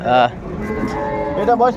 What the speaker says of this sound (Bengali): সুন্দর গাভী বাছুর